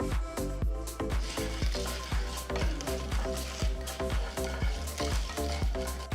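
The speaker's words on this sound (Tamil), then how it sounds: "சீரகம் இதெல்லாம் சேர்த்து நல்லா வறுத்துக்கலாம். கடுகு பொரிஞ்சு பருப்பு செவந்ததும்" Hot oil sizzles and crackles with rapid, irregular pops as mustard seeds, cumin and lentils fry, close up and continuous.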